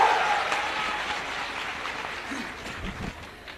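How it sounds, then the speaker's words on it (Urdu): Students at a scholarship event applaud, a dense burst of clapping that starts loud and gradually thins over a few seconds, with a faint voice near the end. "اور یہ تالیاں جو ہے نا وہ لڑکوں کی طرف سے زیادہ بجنی چاہیے."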